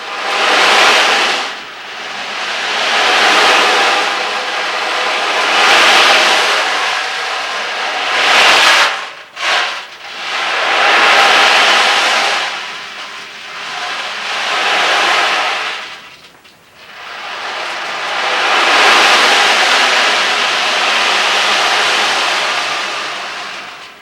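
An ocean drum is tilted slowly from side to side, its rolling beads making long surging swishes like waves washing in and out, with about five broad swells and a brief rattling pause midway.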